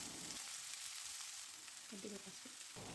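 Chopped beans and onions fry quietly in a pan, giving a faint, steady sizzle throughout.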